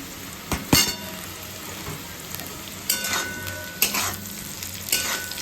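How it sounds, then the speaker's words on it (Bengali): Potatoes fry in a pan of oil for sorshe potol, giving a steady close sizzle broken by several sharper stirring scrapes and clinks of a spatula against the pan. No one speaks. "একসাথে এবার আলুগুলো দিয়ে ভাজা হবে"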